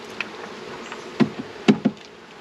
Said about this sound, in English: Man, so many bees.